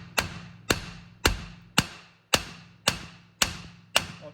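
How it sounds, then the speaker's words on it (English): A hammer taps the front strut spindle of a BMW F30 during a front strut replacement: eight sharp metallic strikes at a steady, even rhythm, close and clear. "I'm gonna start tapping it"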